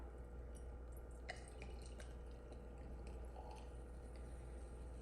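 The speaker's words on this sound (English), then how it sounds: "I'm just pouring a little." A 2022 Onehope sparkling wine, bottle-fermented, trickles faintly into a glass with soft drips and splashes over a steady low background hum, quiet and close, without speech.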